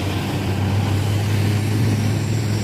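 A heavy tanker truck's engine labors on an uphill climb, a loud, steady low drone that holds close and unbroken for the whole stretch.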